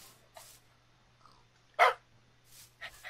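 Dogs barking in Minecraft with the Real Pets mod: a few short, sharp barks and yips, one louder bark in the middle, spaced across a quiet background.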